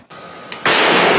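Military cannon fired at Abu Sayyaf positions in Patikul, Sulu: a sudden loud boom that cuts in abruptly and holds as a dense, sustained roar, preceded by a brief quieter noise.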